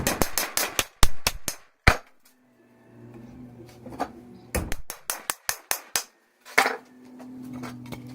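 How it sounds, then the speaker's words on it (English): Sharp, close hammer-like taps drive a dowel into a hive built from scrap timber, coming in quick clusters of strikes separated by short pauses, with quieter handling and scraping between the bursts. "tap in the dowel."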